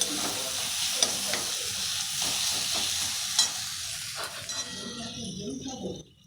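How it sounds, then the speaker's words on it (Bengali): Spice paste fries and sizzles in a pan for an egg and carrot curry, with a steady hiss broken by scraping stirs, then quiets as the pan settles. "মশলা কষানো হয়ে গেছে"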